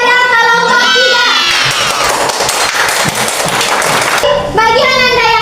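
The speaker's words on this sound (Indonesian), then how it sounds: "Beri tepuk tangan kepada kelompok 3" Schoolchildren in an elementary classroom clapping and cheering for a winning group, a loud dense burst of applause mixed with excited shouting voices, with children's talk and squeals before and after the clapping.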